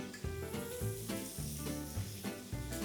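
Pork for jeyuk-bokkeum frying in a pan, a dense sizzle with rhythmic low scraping strokes as the meat is spread about, close and steady, without speech.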